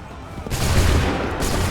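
Massed musket volley in an Assassin's Creed III battle at Lexington and Concord: a sudden loud burst of crackling gunfire erupts and rumbles on, with a second wave of shots joining near the end.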